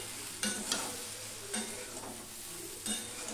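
Jujube fruit tossed with salt and turmeric in a pan over a low gas flame, a steady sizzle broken by a few scraping stirs of the spoon, close and alone with no voices.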